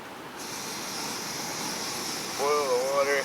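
A camping stove burns with a steady broadband roaring hiss throughout, with a short warbling whistle appearing near the end.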